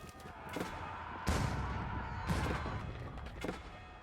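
Cannon fire in a medieval strategy video game: several sharp booming blasts spaced a second or so apart over a quiet battlefield background.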